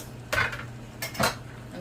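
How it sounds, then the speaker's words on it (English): A utensil scrapes and knocks through pigtail bhagi rice in a cooking pot, two distinct stirring strokes clattering against the metal with a quiet pause between them, close and moderately soft. "so I'm gonna give this a good mix"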